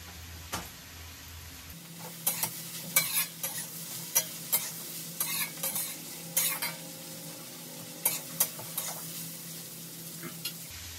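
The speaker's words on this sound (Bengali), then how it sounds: "এবার ওর মধ্যে কাঁচা লঙ্কা আর পেঁয়াজটাও ভেজে নেবে" Green chillies and onion stir-fry with carrots, beans and cabbage in a pan, a low steady sizzle punctuated by repeated sharp utensil scrapes and clacks, up close, without talk.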